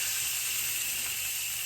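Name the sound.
salmon searing in olive oil in a frying pan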